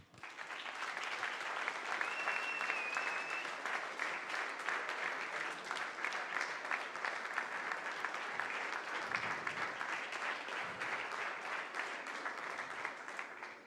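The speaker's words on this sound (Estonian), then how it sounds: "Ja loomulikult publiku aplaus." Steady audience applause at a school playback show fills the space, dense and even from start to finish with no voices over it, fading sharply at the very end.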